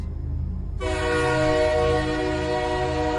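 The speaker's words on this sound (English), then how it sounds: "It was faint, a distant train horn, where no trains should be." A train horn blares with a steady, sustained chord over a low rumble of passing rail cars.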